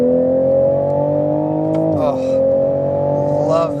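A 2021 Toyota Supra engine drones steadily under load while cornering, then its pitch drops at a shift and climbs again, loud and close from inside the car.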